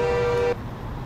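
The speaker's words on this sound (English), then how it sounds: "Horns." A Kenworth 990 truck horn in American Truck Simulator sounds one loud, steady, tonal blast for about half a second and cuts off sharply, leaving the low rumble of the truck underneath.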